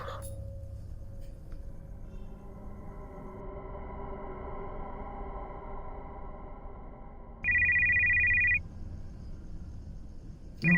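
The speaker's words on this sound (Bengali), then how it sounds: "আর কি ফোন করছে?" A phone ringtone plays a sustained melodic tune for several seconds, then a louder, sharper electronic ring bursts in briefly near the end.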